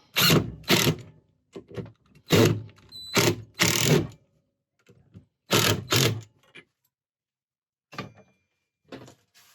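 A cordless drill drives screws into wood in a series of short whirring bursts, each run stopping abruptly, with quieter clicks and handling noises between them.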